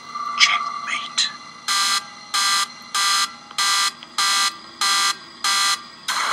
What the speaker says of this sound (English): I hear a security alarm going off.